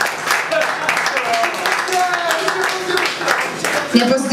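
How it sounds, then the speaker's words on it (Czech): Audience at a Czech poetry slam evening clapping for the sound engineer, a dense, steady wash of clapping throughout with voices and cheers mixed in. "A rovnou velký potlesk pro něj"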